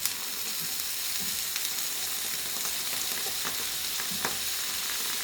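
Rösti potato cakes frying in a pan with added butter give a soft, steady sizzle with scattered small crackles and pops throughout, no voices.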